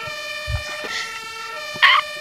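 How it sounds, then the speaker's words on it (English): An electric toy fire truck's siren sounds a brief electronic tone with steady harmonic wails and a short louder burst near the end, with small clicks and handling knocks around it. "Oh, the siren's not turning off"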